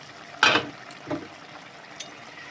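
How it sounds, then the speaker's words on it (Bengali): A few scraping stirs rattle through green-tomato fish curry in a covered pan, one loud clatter followed by two fainter scrapes over a quiet simmer. "ঢাকনাটা খুলে একবার নেড়ে দেবো"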